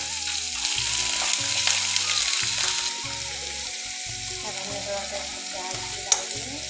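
Chopped onion sizzles steadily in hot oil in a pan while being stirred for a crispy baby corn dish, a continuous close frying hiss with scraping stirs throughout.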